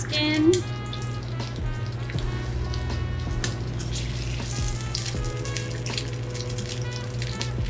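A seasoned pork belly sears skin-down in a heated pan with a steady, moderate sizzle and crackle. A low kitchen hum runs underneath, and faint voices come and go.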